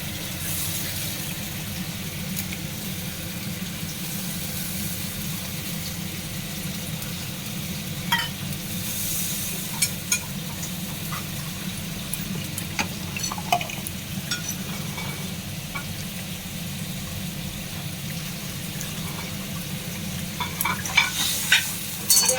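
Ginger paste fries in a pan for fish rezala, a steady sizzling hiss over a low constant hum, with scattered light stirring scrapes and clicks toward the end, close and without speech.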